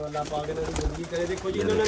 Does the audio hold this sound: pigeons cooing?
yes